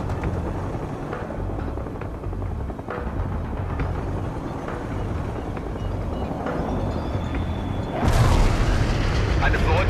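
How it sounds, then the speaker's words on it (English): A bomb explosion in World in Conflict erupts as a sudden loud, broad blast near the end, following a steady rumble of battle ambience and speech under the din. "I deployed the bomb on the mark"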